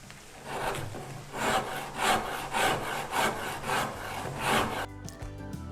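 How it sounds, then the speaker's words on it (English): A coarse Shinto rasp scrapes across a wooden electric guitar neck during carving, about eight rhythmic rough strokes close by, ending abruptly in near silence. "So I've got this Shinto rasp right here, very, very aggressive tool."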